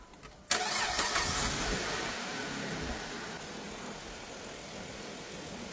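A 2008 Dodge Avenger with a rough-running fault, its EGR blocked off and unplugged, cranks and catches abruptly, then settles into a steady, fairly loud idle that holds to the end.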